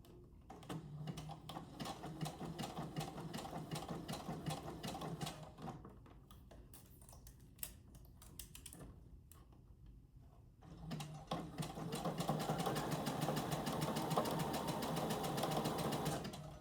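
Steady machine stitching on a doll-sized T-shirt dress at a 3.5 stitch length, the motor running in two bursts separated by a quieter pause with light clicks, close and fairly soft.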